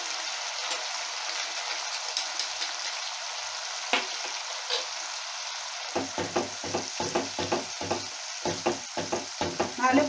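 Mustard and poppy seed paste with turmeric being sautéed in a pan, a steady sizzle that gives way to a quick series of rhythmic stirring clacks in the latter half, close, no talk.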